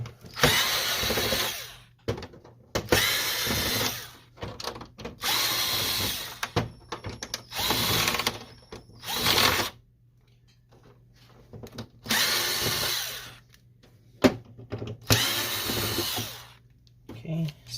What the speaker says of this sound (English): Then we're going to remove screws all around to remove this plastic here.